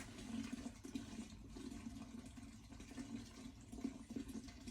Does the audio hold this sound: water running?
yes